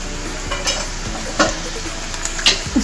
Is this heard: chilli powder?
yes